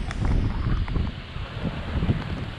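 Strong wind buffets the microphone on a small fishing boat out on the Andaman Sea, a steady low rumble with gusts, boat and water noise mixed in, no voices.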